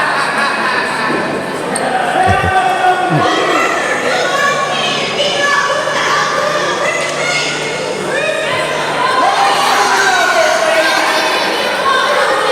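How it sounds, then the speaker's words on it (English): An excited crowd at a wrestling event buzzes and shouts continuously, loud and close, with scattered thuds and individual voices rising over the steady roar. "Crowd very excited for this match"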